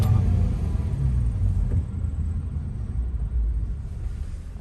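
A manual-transmission car grinds up a steep, roughly 12% hill in first gear, a deep, laboring engine rumble that swells and wavers close by, with no voices.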